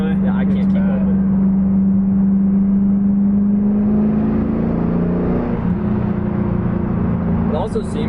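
A car with a rebuilt 550-horsepower Camaro powertrain accelerates hard, a loud sustained engine drone rising steadily in pitch over several seconds, close by and continuous, with a brief extra noise near the start and end.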